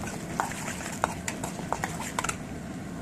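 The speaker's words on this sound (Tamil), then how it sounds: "இது நல்லா பொரிஞ்சிட்டு நல்லா தொலாவி விட்டுக்கோங்க" Mustard seeds tempering in a pan for mango ginger chutney, stirred with a spoon in a few separate metallic scrapes and clinks over a low steady crackle.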